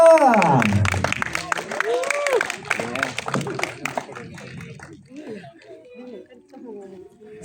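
An audience claps for a cast member at a press conference and screening of the Indonesian film The Bell: Panggilan untuk Mati. The clapping is scattered and fairly light, fades after a few seconds and sits under an announcer's voice.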